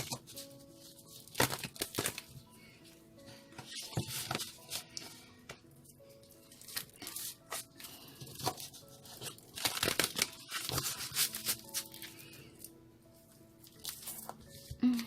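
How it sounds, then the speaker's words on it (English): A tarot deck is shuffled by hand close up, bursts of crisp papery riffling and crackling come in quick irregular clusters with short pauses between, over a faint background hum. "One more shuffle they request."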